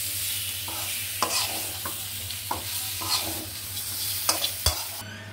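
Garlic and green chilies frying in hot oil with a steady background sizzle, broken by repeated stirring scrapes and clacks of a utensil against the pan at irregular intervals, close by and without speech.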